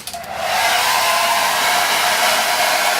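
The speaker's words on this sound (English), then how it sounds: "we're just going to use the hair dryer again" A hair dryer runs steadily at close range, heating a 2004 BMW X3 E83 car door vapor barrier, with a constant loud airy whoosh and no voices.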